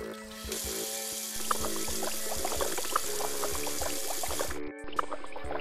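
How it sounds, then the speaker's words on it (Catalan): Water pouring and splashing from a bathroom sink tap in a school washroom as it overflows, a continuous running gush with small splashes and clicks, close and steady, with a background music bed and a brief cutoff near the end. "L'aigua del lavabo comença a desbordar-se."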